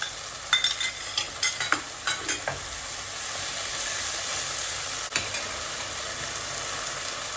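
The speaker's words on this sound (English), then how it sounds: "So we just let this saute for a few minutes till the raw smell of the ginger and garlic goes away." Ginger garlic paste sautés in a pan for pulao, opening with several quick stirring scrapes over a hiss, then settling into a steady, close sizzle with no one speaking.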